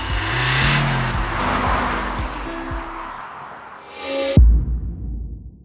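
A car drives on a long road trip, with tonal engine hum and road noise that swell and then fade, followed by a short, sharp whooshing pass before it drops almost to silence.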